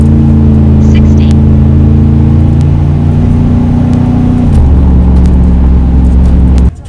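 A Dakota RT and a Silverado street truck launching hard with tires spinning, a loud close engine drone holding steady pitches, then shifting lower partway through and cutting off abruptly at the end.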